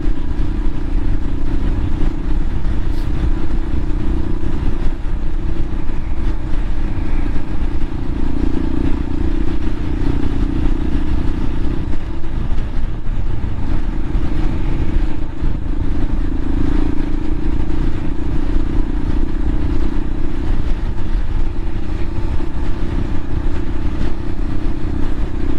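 A Royal Enfield Himalayan motorcycle cruises on Ortega Highway 74, its engine a loud continuous drone heavy with wind roar, steady throughout with no speech.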